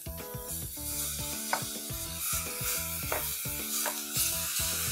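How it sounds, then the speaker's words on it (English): Half a kilo of mutton mince sautéing in a pan with coriander seed powder, a steady loud sizzle broken by repeated scraping stirs and clinks of a spoon against the pan. "I'm going to saute this for 3 to 4 minutes."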